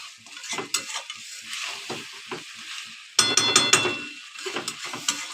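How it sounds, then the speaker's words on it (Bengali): Goat head is stir-fried with papaya, tomato and spices in a pan, giving a soft sizzle under repeated scraping and clanking strokes of a utensil, with a louder burst of stirring midway through. "টমেটো ফোড়ন দিয়ে, সব মশলা দিয়ে, পেঁপে দিয়ে কষিয়ে নিচ্ছি।"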